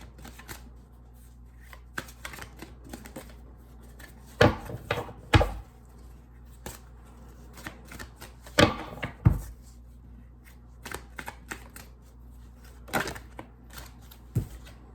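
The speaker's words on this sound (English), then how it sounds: "let me go ahead and pull out those cards" Tarot cards being handled and drawn from a deck, soft papery shuffles and slides with several sharper snaps and taps, close and intermittent against a quiet room.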